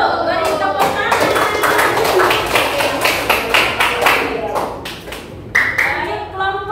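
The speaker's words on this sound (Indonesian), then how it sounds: "Beri tepuk tangan." Classroom of students clapping together after a group presentation, a loud, close, busy patter of hands with sharp individual claps standing out, with some voices mixed in throughout.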